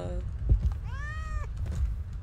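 A cat gives a single drawn-out meow, fairly close, with a faint voice and low background noise around it.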